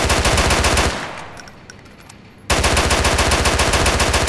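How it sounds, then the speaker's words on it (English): Dense automatic gunfire from a Grand Theft Auto IV shootout, loud and continuous for about a second, breaking off into near silence, then resuming as a sustained rapid burst to the end. "They shooting at each other."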